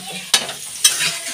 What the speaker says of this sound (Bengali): মাংসের আলুটা ভাজা হচ্ছে